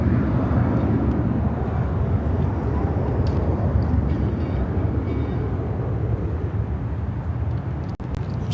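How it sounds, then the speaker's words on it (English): An American Airlines Boeing 737-800 jet taking off, a loud, continuous broadband engine roar dominated by low rumble that holds steady for several seconds without fading. "This is American Airlines 1636 taking off to Houston Intercontinental on the"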